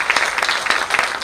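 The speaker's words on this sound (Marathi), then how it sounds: "एकदा जोरदार टाळ्या आपण" Audience at a Marathi book launch for a novel about the Battle of Pratapgad clapping together, a brief, steady, fairly loud burst of applause.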